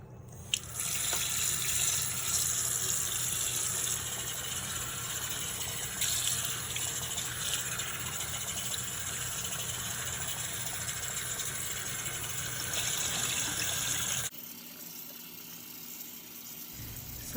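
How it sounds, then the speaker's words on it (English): Cold tap water runs steadily into a sink as avocado-dyed leggings are rinsed, a continuous close splashing rush that stops abruptly near the end, leaving a quieter room. "So here I am just rinsing the leggings out in cold water until the water runs pretty clear."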